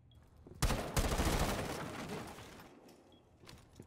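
A dense burst of rapid automatic gunfire in a collegiate Valorant esports match near Astra, loud and sustained for a couple of seconds before trailing off.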